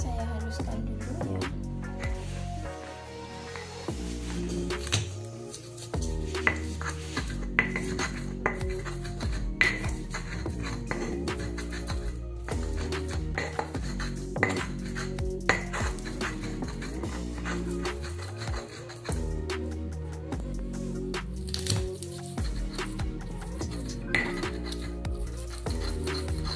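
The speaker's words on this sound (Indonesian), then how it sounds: "Ini bawang putih, bawang merahnya saya haluskan dulu ya." Garlic and shallots are ground for sweet and sour sauce, giving a steady run of rhythmic clinks and scraping rubs of a pestle against a mortar, close and moderately quiet, with no talk.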